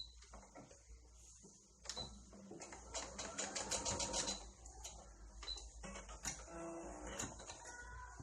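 A sewing machine stitches fabric to shape the ear of a handmade Toy Story Bullseye horse toy, running in short bursts and longer rattling stretches at close range, with no one talking.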